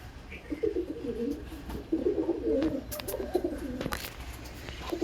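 Pigeons in a home loft, some sitting on eggs, give a steady run of low, throaty coos close by, with scattered clicks and rustles from the birds moving about.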